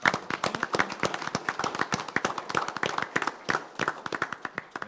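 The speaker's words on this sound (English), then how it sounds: "let's give Mr. Izaguirre a big round of applause for his accomplishment" A small audience at a city commission meeting in San Juan claps for a resident's proclamation, a sparse round of distinct, sharp handclaps with an uneven rhythm, fairly close and lasting several seconds.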